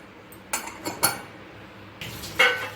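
A pressure cooker lid is opened after its pressure is released, with jackfruit seed kulambu gravy inside: a few close, sharp metallic clinks and clanks spaced apart, then a brighter scrape of metal near the end, with no speech.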